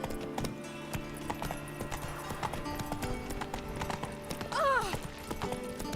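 Roach, a horse in the video game Witcher 3, gallops with a steady stream of hoofbeats and gives a short whinny near the end, heard over game music.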